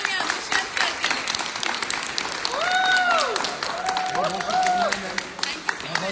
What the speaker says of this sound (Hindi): जोरदार तालियां दुष्यंत सर के लिए।